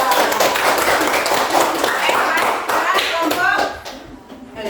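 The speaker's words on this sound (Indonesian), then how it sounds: "kita beri aplaus dulu buat kelompok 2" Classroom group applauding a student presentation group: dense, loud clapping from many hands that runs continuously, then thins and fades near the end.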